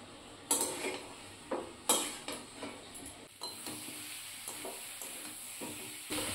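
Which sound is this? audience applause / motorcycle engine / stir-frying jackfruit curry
stir-frying jackfruit curry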